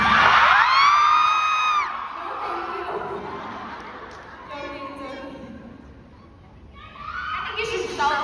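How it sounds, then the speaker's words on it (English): Fans at a series finale interview event in Manila scream loudly in high shrill whoops at first, then the noise fades into scattered yells and chatter before a second wave of screaming rises near the end. "I know you guys are gonna scream."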